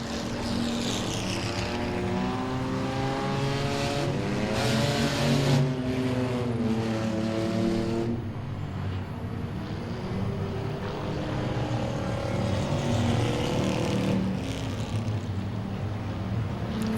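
Race cars at a Langley Speedway enduro drone past continuously, with engine tones rising and falling as cars pass, in a steady mid-distance roar.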